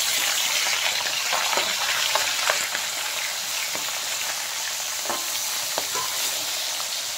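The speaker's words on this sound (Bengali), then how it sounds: "তেল গরম হয়ে গেছে, এখন মাছ দিয়ে দেব।" Fish frying in hot oil gives a continuous close sizzle and crackle with scattered small pops and the occasional stir, steady in loudness throughout, with no voices.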